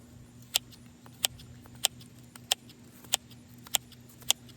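A Felco F5 or F6 bypass pruner with a replaceable blade clicks sharply at a steady rhythm, seven crisp snaps about every half-second over a low steady hum, close and quiet, with no voices.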